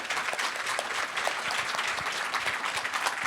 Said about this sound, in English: If we could have a round of applause.